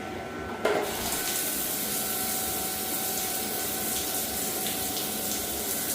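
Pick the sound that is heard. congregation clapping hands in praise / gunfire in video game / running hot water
running hot water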